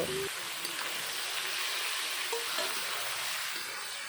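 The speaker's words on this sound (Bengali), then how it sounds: "এখন দিয়ে দেব মাখানো মাংস" Marinated duck meat in ground spice paste hits lightly fried onions in a pan, giving an even, soft hissing sizzle with a couple of faint utensil taps near the start.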